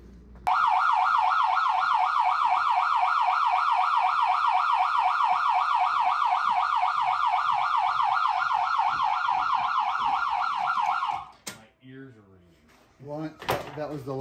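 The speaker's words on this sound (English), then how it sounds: "That was the lunch siren." A lunch siren wails in fast, even up-and-down cycles for about eleven seconds, loud and steady, then cuts off, leaving quiet with a few clunks and brief talk.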